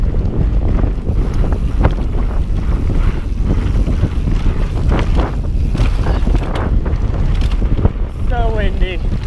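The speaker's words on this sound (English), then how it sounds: "So windy." Strong wind at a crop-dusting site on Eagle Mountain buffets the microphone with constant roaring gusts, a few voices faintly audible underneath.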